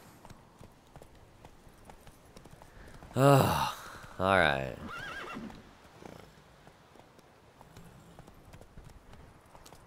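In The Witcher 3: Hearts of Stone, a horse neighs twice in a loud burst over soft steady hoofbeats, with a person groaning and muttering between.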